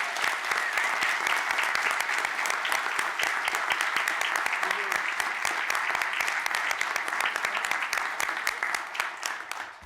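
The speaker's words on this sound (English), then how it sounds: "let's give a round of applause for Zoe Coleman." Sustained applause from an audience at a board meeting, dense steady clapping lasting the whole stretch at an even level with no talk over it.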